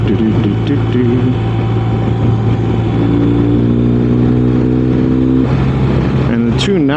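A BMW R 1250 RS motorcycle engine droning steadily at speed, its pitch shifting slightly as the throttle is opened, with constant road and wind noise around it.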